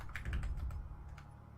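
Arrow keys and the right Control key being pressed on a computer keyboard, a quick cluster of close, clicky taps followed by a few sparser presses.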